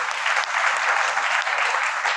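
Sustained audience applause at a motivational business meeting for AWPL industries, dense and steady from start to end, loud and close with no voices heard.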